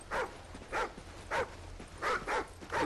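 A dog in the video game Call of Duty Ghosts barks in six short, evenly spaced bursts with faint whimpers between them, fairly near and loud, with no talk over it.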